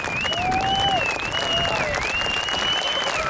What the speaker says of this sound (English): can we have a roaring round of applause for these volunteers